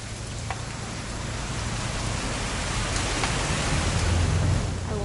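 Rain falls steadily in the video game What Remains of Edith Finch, a dense, even hiss with a faint low rumble underneath that holds at the same level throughout.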